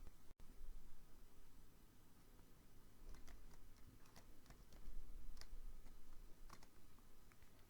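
Sparse, light keystrokes tap on a computer keyboard while someone types into a spreadsheet cell, with irregular isolated clicks over a faint steady hiss and no talking.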